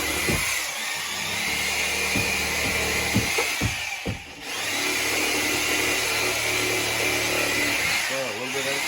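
A reciprocating saw buzzes loudly and continuously as it trims excess wood for subfloor framing in a single-wide trailer with a rotten floor, with brief knocks and a short dip midway.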